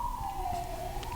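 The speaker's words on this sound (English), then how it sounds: "There's police cars." A police car siren wails steadily in the distance, its pitch drifting slowly downward as it passes, faint beneath background noise with no talking.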